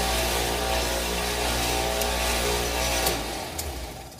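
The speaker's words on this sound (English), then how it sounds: "If I flip this switch, then the motor will run." Electric motor wired through a contactor hums steadily at close range after it is switched on, a sustained tonal drone with a few faint clicks toward the end.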